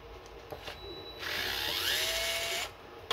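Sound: DeWalt gyroscopic power screwdriver unscrewing a screw

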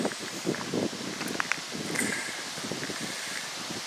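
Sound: wind blowing over moorland at old airfield

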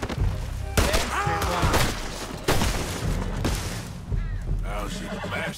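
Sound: gunfire in video game Red Dead Redemption 2

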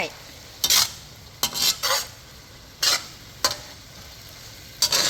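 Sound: stir-frying sweet bamboo shoots

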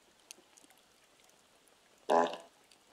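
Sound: elephant fart sound effect played by an Echo Dot

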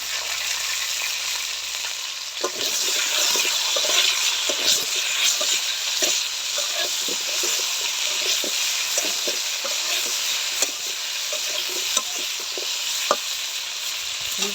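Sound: frying food in a pan for boal fish recipe

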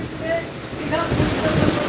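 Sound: strong wind and surging sea waves at Digha beach

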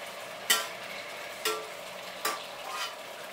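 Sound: stirring apple in sugar and butter syrup

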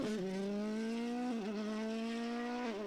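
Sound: Hyundai WRC rally car driven by Thierry Neuville

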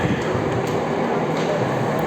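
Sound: metro train passing

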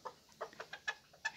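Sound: Serama bantam chickens clucking

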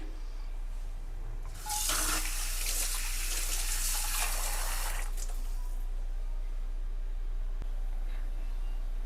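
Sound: water being poured into sambar

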